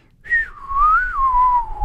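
A person whistles a sustained, wavering tone into a dial-up modem to mimic its connection sound, sliding high then settling lower, close and fairly loud for about two seconds.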